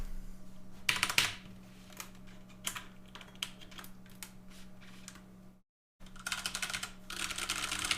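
Keys clatter on a computer keyboard in irregular bursts of clicks, close and fairly quiet, with a brief silent gap before faster typing resumes.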